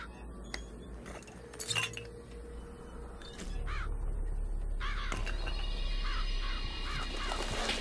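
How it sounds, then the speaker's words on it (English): Murderous crows summoned by a vigor in BioShock Infinite screech and caw repeatedly, with metallic clinks and flapping bursts over a steady low rumble that thickens halfway through. "Press to summon murderous crows."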